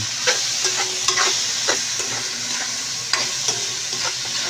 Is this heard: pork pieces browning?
yes